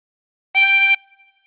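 A single sustained note blown on hole 13 of a 24-hole tremolo harmonica, bright and reedy with a rich stack of harmonics, heard alone for under half a second before ending with a faint trailing ring.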